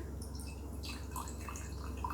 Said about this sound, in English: Noticeably thinner as I pour it from the first one.